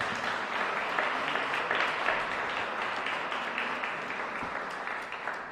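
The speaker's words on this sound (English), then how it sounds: "Let's give them one more round of applause." Audience at a Black History Month celebration with the city council applauds after a performance, a sustained wash of clapping from a fairly large crowd, holding steady and easing slightly toward the end.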